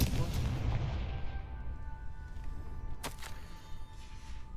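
In Hogwarts Legacy, the Confringo fire spell goes off with a booming blast at the start that rumbles and slowly fades, followed by a sharp crack a few seconds later, all over low ambient game sound.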